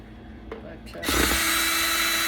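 A power driver spins up and runs steadily, close and loud, while taking apart scrapped Polycom telecom equipment, preceded by brief handling clicks and movement.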